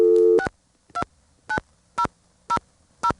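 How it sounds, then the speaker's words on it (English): On an ITT Pentaconta crossbar exchange in Asheboro, North Carolina, in 1977, a dial tone cuts off and six short touch-tone dialing beeps follow at an even pace, crisp and alone. "you dial your number"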